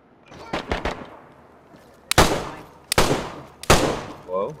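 Three sharp, loud gunshots crack out at steady intervals in the DayZ survival game, each with a short echoing tail, preceded by softer thumps and faint talk.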